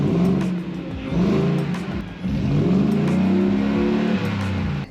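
A 2023 Ford Shelby F150 Supersnake truck with twin Borla exhausts revs hard, its loud, deep engine note rising and surging in repeated pulls with a brief dip between them, heard up close with no talk.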